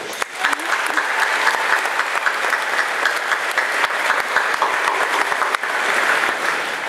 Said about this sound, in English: How about another round of applause for our student speakers?